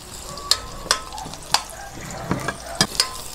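Chopped onion and garlic sauté in a little olive oil in a pan, a steady soft sizzle broken by about half a dozen sharp clinks of a utensil stirring against the pan.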